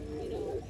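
A pigeon gives a soft, faint coo in a city setting, a brief low tonal call over quiet background noise.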